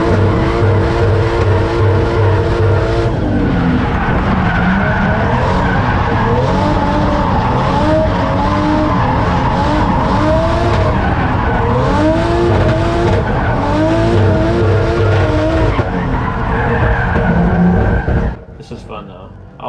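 A Toyota AE86 drifts behind another car, its engine droning and tires squealing in repeated sweeping screeches, loud and close throughout, with someone talking over it before the sound cuts off near the end.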